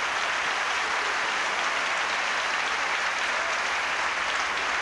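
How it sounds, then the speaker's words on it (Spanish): A church congregation breaks into steady, dense applause that fills the space evenly from start to finish, loud and sustained with no voices standing out. "Un aplauso."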